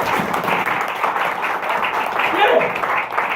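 A church crowd applauds and cheers for a preacher, a dense, steady wash of clapping and voices that holds loud throughout, with speech mixed in.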